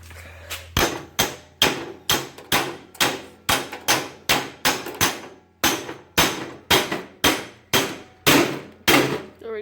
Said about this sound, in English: Now I just need to pound this little coupler off, and socket extension will work.